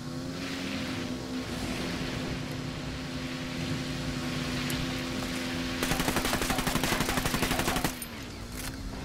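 Rapid automatic gunfire rattles for about two seconds near the end, fired at a bike in Ghost Recon Wildlands, over a steady engine drone and game ambience that runs throughout.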